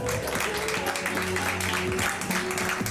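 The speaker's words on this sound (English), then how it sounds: "could we have a round of applause please?" A round of applause at a summer tournament prize-giving for the third-place team, soft and steady clapping from a crowd heard at a distance, with voices mixed in.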